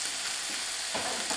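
Peppers hit a hot pan with chilli and garlic, giving a loud, continuous sizzle and crackle of frying that swells briefly as the food is stirred.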